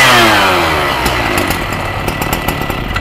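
A Kawasaki TJ53 brush cutter engine runs close and loud, a steady two-stroke drone that holds through the whole stretch with slight flutter and no voices.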